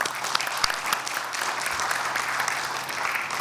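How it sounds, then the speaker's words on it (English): A city council meeting audience applauds with steady, moderately loud clapping that holds for a few seconds and is not mixed with talk. "Let's give them a round of applause"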